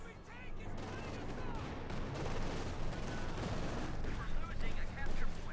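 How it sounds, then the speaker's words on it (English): Light machine gun fire in the video game Company of Heroes 2, a dense continuous rattle of battle gunfire and distant explosions lasting throughout, with a commentator talking over it. "Gonna do this with a light machine gun and a bar, showing a lot of firepower."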